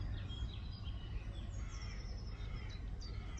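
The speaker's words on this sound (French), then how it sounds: "Bon là il y a les oiseaux." Several birds chirp and sing in a garden, short high tweets scattered over a steady background hum, fairly faint and with no speech.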